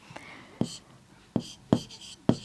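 Pen strokes scratch across paper in short, quick bursts, with four or five distinct marks spaced through a quiet stretch while a maths problem is worked out.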